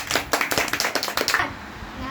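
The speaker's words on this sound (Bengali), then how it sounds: "সবাই হাততালি দাও।" Children clap their hands together at a teacher's day event: about a dozen quick, evenly spaced claps in a brisk rhythm, close and fairly loud, ending after under two seconds.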